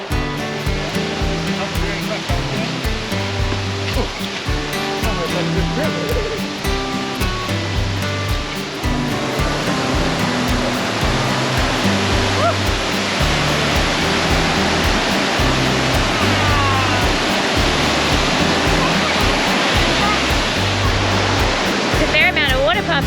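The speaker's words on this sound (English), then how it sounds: "There's a fair amount of water pumping over these falls." Water pours over a waterfall with a steady, full roar that runs throughout, layered with background music and a voice now and then.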